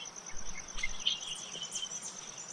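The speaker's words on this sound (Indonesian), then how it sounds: "ada jangkrik, ada burung, bisa menggambarkan bahwa suatu situasi yang ada yaitu pagi hari" Insect chirring sits high and steady through the whole stretch, with faint bird-like chirps flecking in now and then, an early-morning outdoor ambience with no voices.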